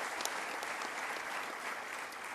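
A large audience at a baseball Hall of Fame award ceremony breaks into sustained applause, a dense, even wash of many hands clapping at a distance with no voice on top.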